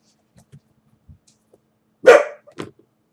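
A dog barks at house cats indoors: one loud, sharp bark followed by a shorter second bark, close by, with faint soft thumps and quiet sounds before in an otherwise silent room.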